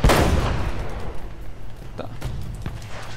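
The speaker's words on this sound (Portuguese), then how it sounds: "Rolou uma explosão." Explosion in the video game Uncharted: Drake's Fortune, a loud blast followed by a rumbling decay and a few sharp bangs, with a voice talking over it.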